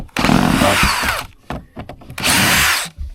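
A power drill backs screws out of a tour bus during a conversion build. Two loud, sustained whirring bursts come up close, with short stuttering pulses of the tool between them.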